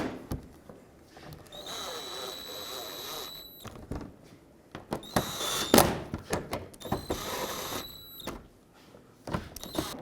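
Screws being tightened on a front splash shield beneath the bumper of a 2002–06 Toyota Camry, with close whirring bursts of a power driver, a few brief loud spurts separated by pauses and clatter.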